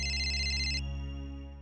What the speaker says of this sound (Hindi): ध्रुव की मम्मी का फोन है।